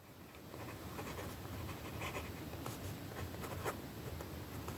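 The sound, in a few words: steel fountain pen nib writing on paper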